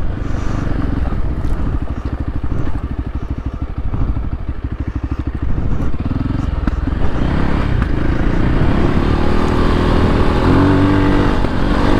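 A Voge 300 Rally motorcycle fitted with a Powerflow foam air filter runs loud and close, its single-cylinder engine chugging steadily and then revving harder as it warms up.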